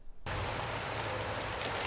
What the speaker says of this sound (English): it is raining in the Pacific Northwest.